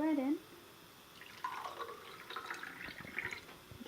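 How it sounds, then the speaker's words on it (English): Homemade almond milk pours into a small glass with a soft, gurgling trickle that rises after a short pause and fills for a couple of seconds, faint and close, following a brief voiced sound. "we'll just go ahead and pour that in."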